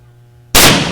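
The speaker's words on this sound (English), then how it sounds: "let's blow the cannon for our official opening" A ceremonial cannon fires for an opening ceremony, one very loud, sudden close blast that cuts through a quiet hum and rings on briefly.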